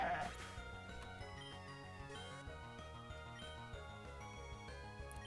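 A sheep-like Pokémon cries out with a brief bleat at the start of a battle in the video game Pokémon Uranium, heard faintly over steady chiptune-style background music.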